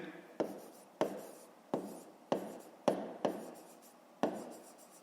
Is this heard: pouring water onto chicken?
no